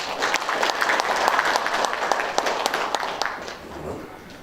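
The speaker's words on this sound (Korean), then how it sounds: "다시 한번 힘찬 박수를 부탁드립니다" An audience at a policy forum on local delivery riders' labor rights gives a burst of applause, many hands clapping briskly and fairly close, gradually thinning and fading out by the end.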